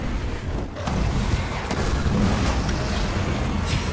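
A large in-game explosion from the Wavegun weapon, a loud, continuous booming rumble that fills the whole stretch with a dense, sustained roar.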